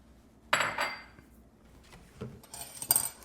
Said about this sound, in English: we're going to put in 2 eggs to our sugar and our butter, and then we're going to cream that together